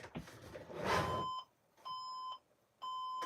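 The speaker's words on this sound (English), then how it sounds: "That beeping basically means that a module is either missing or disconnected" A brief rustle, then a computer motherboard gives long, steady electronic error beeps for a missing or disconnected memory module, evenly spaced and repeating.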